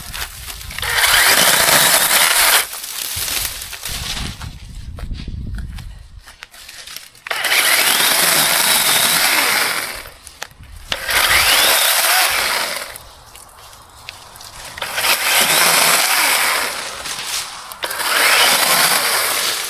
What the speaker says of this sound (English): Using my chainsaw like a weed eater.